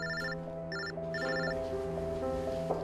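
A telephone rings with bright, repeated electronic trill bursts over a low sustained musical tone, moderately faint and with no talking.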